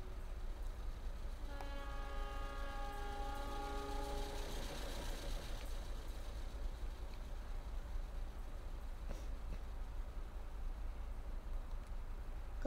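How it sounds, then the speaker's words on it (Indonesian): An approaching train sounds a long multi-tone horn blast for a few seconds, then its rumble builds beneath steady outdoor background noise. "udah dekat tuh keretanya. Dikta horn."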